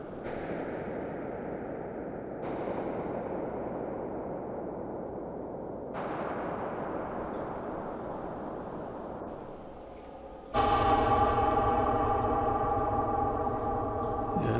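Short synth chord hits on an Elektron Model:Cycles, each followed by a washy, noisy reverb tail that decays slowly; three soft hits, then a brighter, louder chord with a ringing tonal tail.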